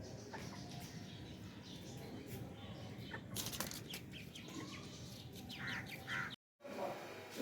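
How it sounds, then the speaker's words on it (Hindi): Chickens let out of their coop flap their wings in a few quick rustling bursts close by, with soft clucks and background chatter in a home yard. "जी मुर्गियाँ भी खोल दी हैं, ये आते इधर मुझे तंग करती"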